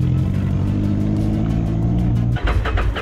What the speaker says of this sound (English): This car is pretty loud.